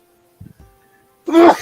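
A single loud, close sneeze bursts out near the end after a quiet stretch with faint shuffling, during a relaxed drink-and-draw art session.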